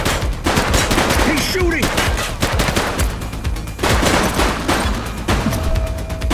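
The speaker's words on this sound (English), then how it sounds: "Shots fired!" Sustained gunfire in a shootout from The Precinct police video game, with dense bursts of automatic shots and single cracks rattling continuously at close range, loud and busy throughout with faint voices briefly in the mix.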